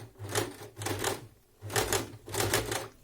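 A domestic sewing machine stitches fabric held under the presser foot, running in three short bursts of rapid mechanical whirring with brief pauses between them, close and fairly quiet, with no talk.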